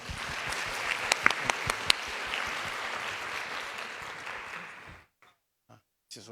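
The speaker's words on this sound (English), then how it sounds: "let's give our professors a round of applause" A lecture audience at a university hall claps for the professors after an ethics talk, dense sustained applause with a few sharp close claps that fades out, followed by near silence and a lone clap or two.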